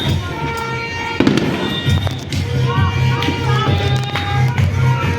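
Firecrackers and fireworks burst in sharp crackling pops during New Year celebrations, one loud bang followed by scattered snaps and fizzing, while people chat nearby.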